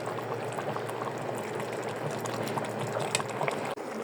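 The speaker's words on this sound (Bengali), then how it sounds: "দেখেন এই যে বলক চলে আসছে।" A pot of chicken biryani liquid coming to a rolling boil, a steady, close, dense bubbling and simmering hiss that continues evenly throughout, ending with a brief clunk.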